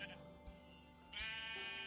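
Sheep bleating in Minecraft, a blocky sandbox video game: a short, faint bleat early on, then a louder, drawn-out nasal bleat that carries through the end, with no talking.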